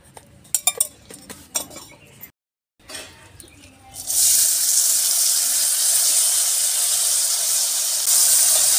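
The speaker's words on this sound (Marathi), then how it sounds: "चला, आपण आता मटकी भाजायसाठी जरा तेल टाकूया. तर मटकी भाजून घेऊया आपण." Moth beans roast in hot oil in a pan. A few light clinks and taps come first, then a short pause, then a loud, steady sizzling hiss holds to the end.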